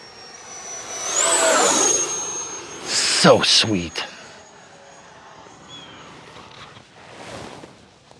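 An FMS Viper V2 70mm RC jet makes a flying pass at a maiden flight, its turbine whine rising loud then fading into the distance, with a person speaking briefly over it.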